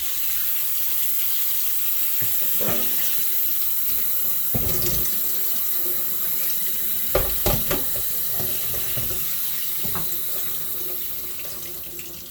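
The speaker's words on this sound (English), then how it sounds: "the next thing we want to do is that we want to give these cherries a good rinse" Cherries are rinsed under a running tap, and the steady rush of water goes on without a break, with occasional splashes and soft knocks of fruit and hands moving in the stream.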